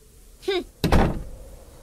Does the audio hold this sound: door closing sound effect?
yes